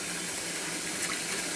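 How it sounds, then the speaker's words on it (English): Tap water runs steadily for a puppy's bath, a continuous loud rushing splash that fills the whole moment with no voices over it. "He did not like the sound of the water."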